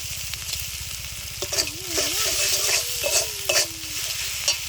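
Spices with salt, turmeric and ginger-garlic frying in a pan for a spinach and egg dish, stirred continuously: a steady sizzle under repeated scraping spoon strokes, with a faint tonal hum wavering in the background.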